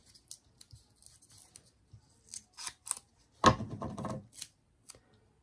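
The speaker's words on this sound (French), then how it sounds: "Je vais prendre mes ciseaux." Scissors snipping through paper or card during a papercraft build, a series of quiet, separate crisp cuts with small rustles between them, close and alone with no voices.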